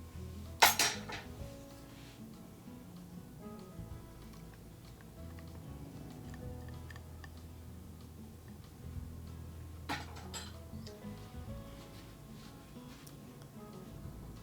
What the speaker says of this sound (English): I'm going to continue stirring those and then just transfer them over to my breakfast